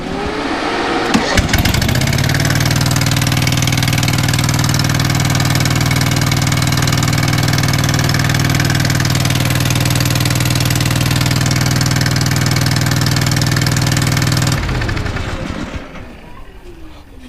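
Engine on chicken farm equipment, just fitted with a new starter and still without an exhaust, cranks and catches, then idles loudly and steadily for about twelve seconds before shutting off.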